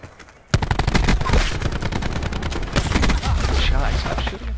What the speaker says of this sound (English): Stop shooting him.